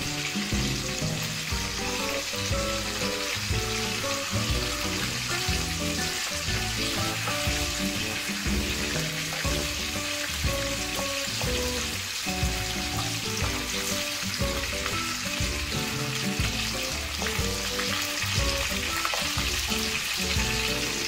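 Mutton seekh kebabs frying in a pan until light golden brown, a constant close sizzle with bubbling oil and occasional soft knocks, continuing evenly throughout.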